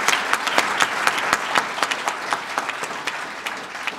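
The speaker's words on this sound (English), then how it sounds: "So give yourself a round of applause." Audience applause at a governor's announcement event, dense and steady clapping with distinct individual claps standing out, no talking over it.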